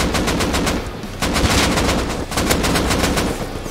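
Sustained bursts of automatic gunfire in Rust, a dense rapid rattle of loud shots that breaks off briefly and then resumes, heard alone without any voices.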